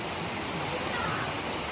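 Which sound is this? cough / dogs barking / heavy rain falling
heavy rain falling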